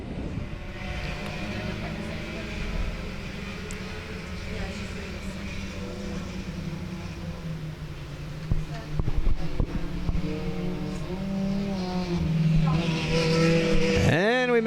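Sport compact race cars roar around South Texas Speedway on a night race, engines droning near and far with a passing car rising at the end, while an announcer talks over the track noise.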